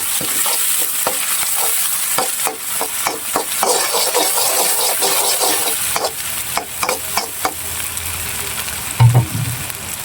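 Cumin seeds frying in a pan of hot oil, a bright steady sizzle with repeated scraping and stirring clicks from a utensil, close and loud, with no talking.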